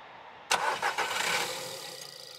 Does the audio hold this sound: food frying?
no